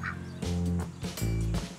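Geese honking in a series of loud, nasal calls, three or four bursts in close succession, close by and standing alone without any talking.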